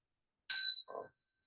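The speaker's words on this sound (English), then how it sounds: "we're just going to have another bell and bow to each other" A meditation bell is struck once during Buddhist practice, a bright ringing ping with clear overtones that fades quickly, followed by a faint, lower after-sound.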